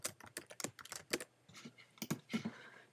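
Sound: typing text on a computer keyboard

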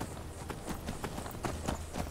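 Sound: horse hooves clip-clopping in Skyrim video game

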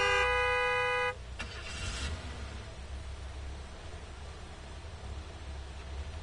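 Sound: car horn honking in video game Gas Station Simulator

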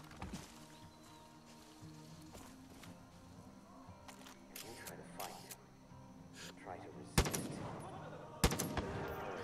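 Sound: gunshots in Far Cry 5 video game, headshot

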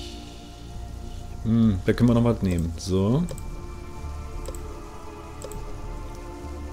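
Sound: rain falling in the video game Sheltered

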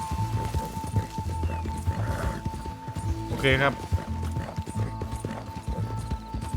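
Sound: horse riding hoofbeats in Red Dead Redemption 2 video game

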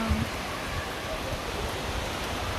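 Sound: rain starting to fall

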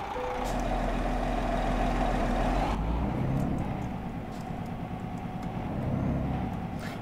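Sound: truck driving, from a truck-driving video game

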